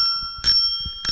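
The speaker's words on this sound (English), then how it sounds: "It's a freaking bell." Two bright rings of a bicycle bell mounted on a mountain bike's handlebar, each short metallic burst loud and close, separated by a brief pause with faint background noise.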